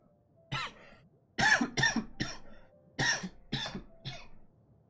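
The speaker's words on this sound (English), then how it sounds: "Oh, got a cough." A streamer coughs repeatedly off to the side of the mic while playing Genshin Impact, with six or seven harsh, forceful bursts in quick clusters and brief pauses between, loud and close.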